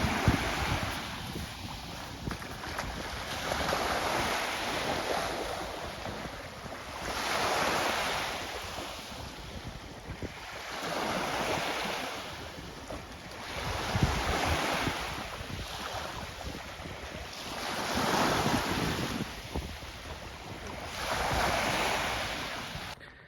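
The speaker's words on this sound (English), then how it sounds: "a good afternoon spent on the beach, on the Mediterranean" Mediterranean surf washing onto a beach in slow, regular swells, each wave rising and falling every few seconds, with steady wind buffeting the microphone throughout; no voices.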